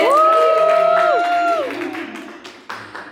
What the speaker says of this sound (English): Guys, let's give her a round of applause.